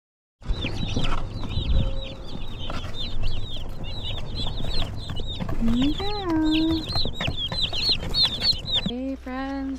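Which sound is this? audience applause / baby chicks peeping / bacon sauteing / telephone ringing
baby chicks peeping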